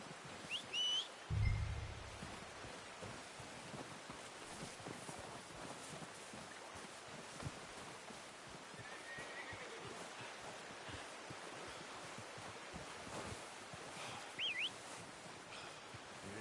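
A horse in Red Dead Redemption 2 gives a short whinny near the start, then a faint rumble of ambient outdoor sound and hooves continues quietly, with another brief call later.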